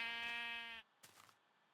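A sheep bleats in Minecraft Pocket Edition Lite, one loud, buzzy, steady synthetic bleat lasting under a second, followed by a short soft rustle of in-game activity.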